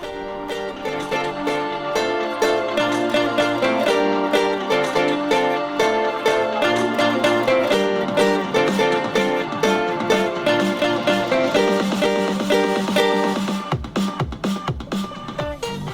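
A ukulele plays part of a song, strummed in a steady rhythmic chord pattern with a bright, close, continuous sound that ends in a few ringing strums.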